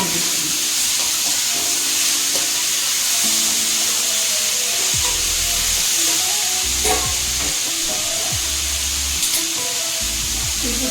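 Pieces of Bangalore eggplant sizzle and crackle steadily in a hot pan for a curry, with occasional stirring clatter, close up and continuous throughout.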